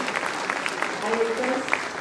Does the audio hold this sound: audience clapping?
yes